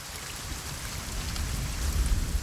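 Dense, steady monsoon rainfall hisses all around a rainforest, growing slightly louder toward the end, with a low rumble beneath.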